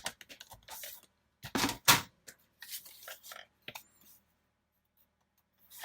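Scissors cut a sheet of paper straight across in a planner, a few short crisp snips and slicing strokes in close, quiet surroundings with pauses between.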